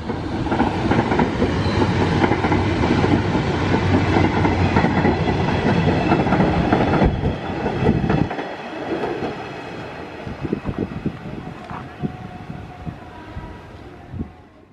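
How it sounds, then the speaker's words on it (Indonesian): A freight train rumbles past close by near a locomotive depot, with rhythmic clickety-clack of wagons over the rails, then fades into scattered clanks and light rattling. "ternyata sudah datang kereta barang ya"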